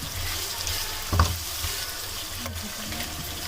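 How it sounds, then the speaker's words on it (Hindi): Water is poured into a pot of rice and biryani masala for vegetable pulao, giving a continuous hissing, sizzling pour with one brief louder splash partway through. "तकरीबन आधा कप के बराबर मैंने इसके अंदर पानी डाल दिया।"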